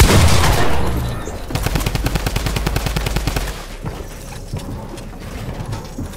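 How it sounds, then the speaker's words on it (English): A drum gun in Fortnite fires a long rapid burst of loud, evenly spaced shots that runs for about two seconds, then cuts off and leaves fainter game ambience. "Drum gun out."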